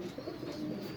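Cooing of a breeding pair of Sualkoti pigeons, a soft low murmur running continuously through the moment with no other sounds.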